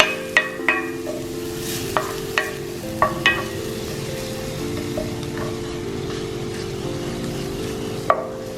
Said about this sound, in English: I'm going to let it melt with the shallots and the garlic